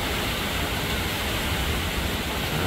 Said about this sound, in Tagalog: Grabe na ang ulan.